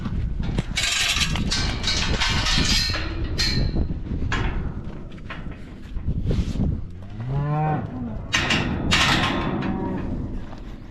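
Several heifers moo loudly and close by in a pen, long drawn-out bellows overlapping, with occasional knocks and clatter of pen movement in between.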